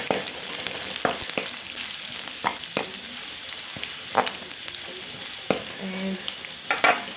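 Sliced onions frying golden in a pan with dried fenugreek leaves, a steady soft sizzle broken by repeated scraping stirs and spoon taps, close and moderately quiet, with no voices.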